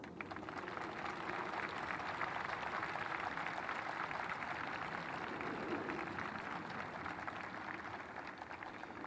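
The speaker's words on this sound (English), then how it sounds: "about time now, I think, for mums and dads to give you some polite applause" Parents clap politely at the 2014 Chief of the Defence Force Parade, a dense, even patter of many hands that holds steady and sounds fairly distant and soft throughout.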